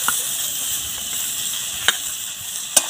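Potatoes and carrots are stirred in a pan over a low, continuous sizzle, with a few faint, brief scrapes of the spoon and no voices.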